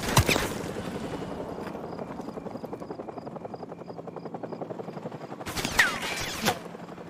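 Helicopter rotor in a Call of Duty Modern Warfare Remastered battle, a steady rapid thudding chop held throughout, with sharp gunfire bursts at the start and again near the end.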